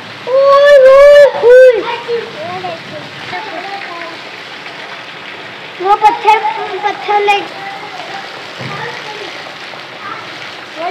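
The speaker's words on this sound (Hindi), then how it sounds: "अचानक से आ गई है बारिश" Steady rain hisses throughout in a Pakistani village while people talk over it, their voices loud and close against the constant wash of falling water.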